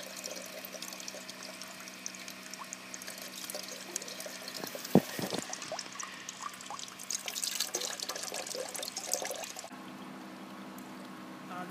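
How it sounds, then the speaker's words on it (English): Water from an artesian well runs steadily into a container outdoors, close by, with a continuous splashing trickle. "This is an artesian well and it runs all the time"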